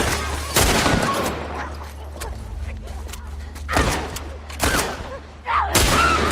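Gunfire in a shooter video game, with several loud, separate shots and bursts heard up close, a low rumble underneath, and character voices in between.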